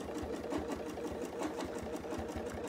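Sewing machine stitching a quilt guided by a ruler, a steady fast mechanical needle chatter running evenly and close throughout, with no talk.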